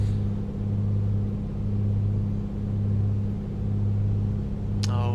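A Piper Comanche 250 engine climbing in the A2A flight simulator gives a steady, droning low hum with gently pulsing rumble, continuous and close, alone without talk.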